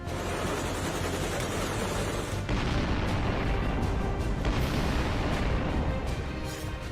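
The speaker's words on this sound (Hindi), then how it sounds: "अफगानिस्तान के सूखे पहाड़ इसी तरह धमाकों से थर्रा रहे हैं" Explosions rumble across dry mountains in Afghanistan, a dense, continuous low roar of booms and crackling blasts, loud and sustained with brief shifts in intensity.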